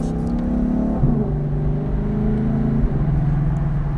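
Ford Mustang engine running loud and close, a deep steady rumble with a brief rise in revs around the middle, no talk over it.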